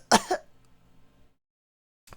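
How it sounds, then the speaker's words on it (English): A voice actor performing a live dub coughs harshly once or twice in quick succession, close and loud, followed by quiet breathing and a faint later sound. "Val coughed, shuddering,"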